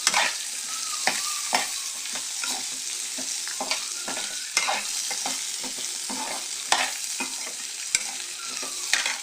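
Ginger sautéing in a pan for radish paste, a steady soft sizzle broken by repeated sharp scrapes and knocks of a spoon stirring against the pan, close and clear with no talking.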